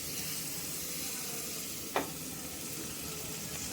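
Pieces of jackfruit fry over a high flame with a steady, even sizzle that runs throughout, broken by one brief sharper crackle or clink near the middle.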